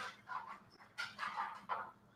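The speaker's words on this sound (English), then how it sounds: "That silly dog." A dog makes short whimpering, yipping sounds in a few quick bursts, moderately close and fairly quiet indoors, with no talk over it.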